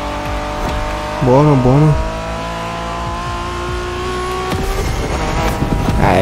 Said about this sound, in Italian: Io ci voglio sempre provare a fare il freno a mano